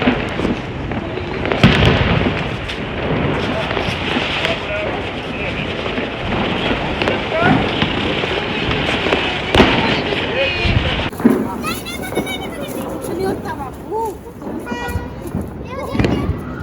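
Diwali firecrackers go off in dense, rapid crackling bursts and sharp bangs that run almost continuously, with voices talking underneath and a denser spray of pops near the end.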